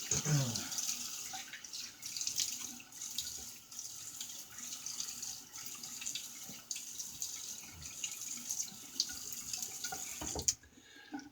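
Tap water runs steadily into a sink while a safety razor is rinsed during a wet shave, a close continuous splashing hiss with brief clinks and a sudden cutoff near the end.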